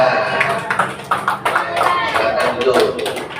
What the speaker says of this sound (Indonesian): Dan tepuk tangan untuk kelompok Abu Bakar.